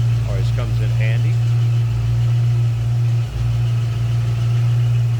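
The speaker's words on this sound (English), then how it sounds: "Good sounding engine." A 1967 Ford Mustang Coupe idles close by, a steady low rumble with a strong even hum. A person talks briefly near the start.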